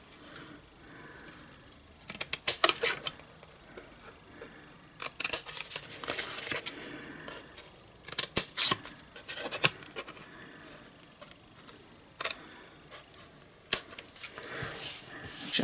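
Scissors snip paper card along score lines for a Valentine's Day matchbox gift box, crisp cuts arriving in scattered bursts with handling rustles and quiet gaps between, close by.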